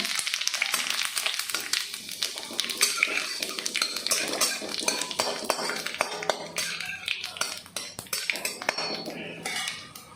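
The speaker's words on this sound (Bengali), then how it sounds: "এর মধ্যে আমি দিয়ে দেবো পাঁচ ফোড়ন একটা শুকনো লঙ্কা তেজপাতা ফোড়ন" Panch phoron, a dried red chilli and bay leaf crackle in hot oil for a shukto, with a steady fizz under frequent metal utensil clinks and scraping against the pan.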